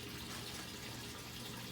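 Water drains steadily through an aquaponics stand pipe, a faint continuous rushing and gurgling with no voices.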